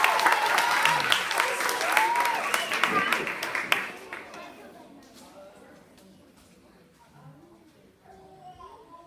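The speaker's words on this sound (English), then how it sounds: "round of applause for them" A studio audience at a British children's talent show claps loudly for young performers, the applause fading out after about four seconds into quieter room sound with voices talking.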